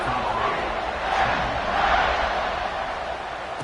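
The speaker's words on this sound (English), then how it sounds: "this crowd is feeling themselves after that last drive" A stadium crowd in an American football video game cheers steadily as the kickoff unit takes the field, a dense roar with two slight swells partway through, no voices on top.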